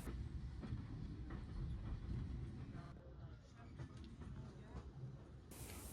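The Flying Scotsman, a Gresley-designed steam locomotive, rumbles along with steady low running noise and soft rhythmic rail clatter, heard at a distance from the train while underway.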